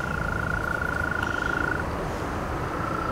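Frogs croak in a man-made swamp, a dense chorus of rapid croaks with one shrill sustained trill running through most of it, close and steady outdoors.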